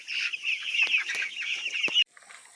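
Chickens cluck and chatter continuously at close range, a busy run of high squawky calls that cuts off abruptly.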